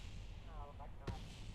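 Spacecraft Camelot blowing up in Kerbal Space Program: a single short blast stands out briefly over a steady low engine rumble, with faint tonal game sounds before it.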